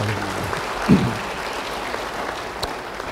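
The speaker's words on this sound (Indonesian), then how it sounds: "Yang mau beri tepuk tangan bagi dia." Steady applause from a church congregation during a sermon, moderately loud and even, with one dull thump early on.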